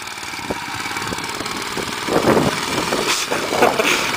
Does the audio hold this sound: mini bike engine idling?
yes